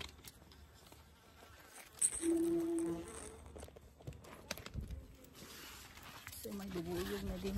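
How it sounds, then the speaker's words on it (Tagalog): Bees buzz around sunflowers in a garden, a faint, steady droning hum that rises slightly in places, quiet and nearby. "So may bubuyog na din."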